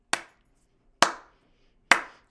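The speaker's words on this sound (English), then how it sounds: "Can you clap with me?" Three sharp, evenly spaced hand claps, each about a second apart, crisp and close with quick decay in a quiet room, part of a children's dance session.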